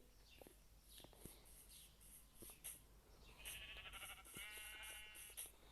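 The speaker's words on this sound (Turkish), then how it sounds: "Minecraft'ta koyunlarımızı besleyeceğiz." Several Minecraft sheep bleat in short, wavering cries, some overlapping, with soft rustling and faint background noise between calls.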